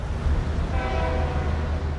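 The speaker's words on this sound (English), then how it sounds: "the freight trains keep on rolling" A freight train rolls near an iron ore mining area at Brumadinho, a dense, continuous low rumble with a faint tonal horn-like layer riding on top, steady and close throughout.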